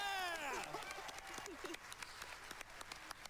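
A crowd cheers and claps at a speedrun marathon event, a dense wash of applause with scattered sharp claps, starting under a voice and carrying on alone.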